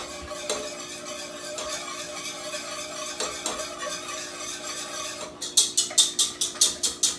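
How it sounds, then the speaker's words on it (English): A small whisk stirring ingredients in a saucepan, a steady scraping swirl that gives way near the end to a run of quick, bright metallic clinks as the whisk strikes the pan. "we're going to use a small whisk"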